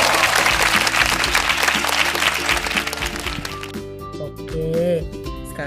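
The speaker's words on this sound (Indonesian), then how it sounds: "Beri aplaus untuk Diofantos semuanya." Classroom applause for a student who solved a circle-angle problem, a dense burst of clapping from many pupils that fades after about four seconds into scattered claps and quiet room noise.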